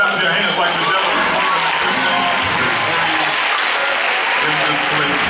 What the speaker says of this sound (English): you ought to clap your hands